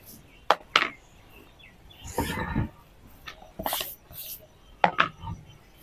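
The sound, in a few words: chopping tomatoes with a knife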